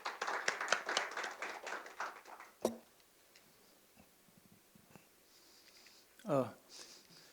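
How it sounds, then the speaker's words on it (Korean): Audience applause at a KISTEP science and technology innovation agenda forum, a short burst of clapping that fades within a few seconds into a quiet room with a few small taps and a brief voice. "큰 박수 부탁드리겠습니다."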